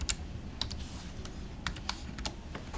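Fingers type on a computer keyboard at a desk, a quick, irregular run of light clicks heard close up and alone, without any talk.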